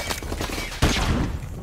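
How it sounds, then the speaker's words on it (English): Flashbang grenade going off in Call of Duty 4: Modern Warfare Remastered, a single sharp bang partway through, preceded by quieter game ambience and followed by a sustained ringing wash. "Flashbang out."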